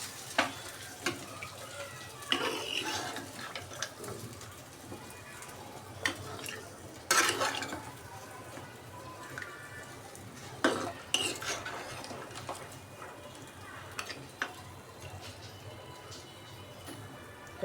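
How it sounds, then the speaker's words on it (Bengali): Vegetables fry in oil in a pan with a soft continuous sizzle, broken by frequent scrapes and clinks of a spoon as they are stirred, fairly quiet and close. "এই দেখেন তেলে দিয়ে দিলাম ভাজিটা।"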